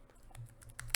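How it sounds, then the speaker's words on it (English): Quick, faint run of computer keystrokes, a handful of light clicks tapped in close succession with no voices. "Let me try typing it correctly this time."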